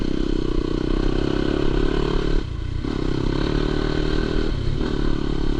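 A Yamaha YZ250FX dirt bike ridden through the woods in third or fourth gear, its engine droning loud and steady up close with two brief dips as the throttle eases off, no talk.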